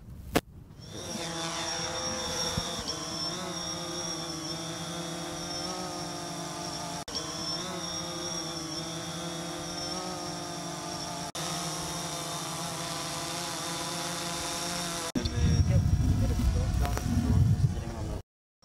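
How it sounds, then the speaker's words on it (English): A small drone flying overhead at a high school STEM night gives off a steady, insect-like buzzing whine with layered tones that holds for about fifteen seconds, then a louder, rougher rumble near the end. "it looks like the drone is doing a lot while it's in the air"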